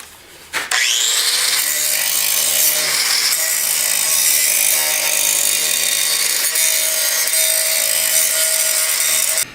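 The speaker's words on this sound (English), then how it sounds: "so time for some grinding" An angle grinder smooths down welds on a rust-repair patch panel of a 1959 Ford truck, starting up abruptly and then holding a loud, steady, high-pitched grinding whine for several seconds, close with no talk.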